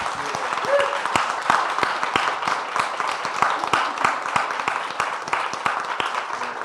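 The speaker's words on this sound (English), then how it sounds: "if we could all give a round of applause to Liz and Amory" An audience at a public library talk applauds, a steady spread of many hands clapping at an even level throughout, with sharp individual claps standing out from the crowd wash.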